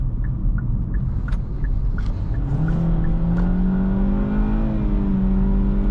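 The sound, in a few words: 2024 Kia Forte GT-Line with CVT accelerating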